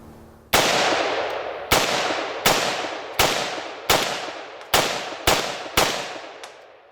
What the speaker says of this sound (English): let's shoot that cinder block up there